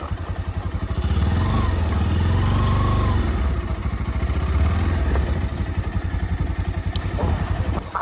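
Engine of an NS200 motorcycle, apparently with a worn chain sprocket, runs close by with a steady mid-pitched idle and a rougher, clattering stretch. No talk is heard.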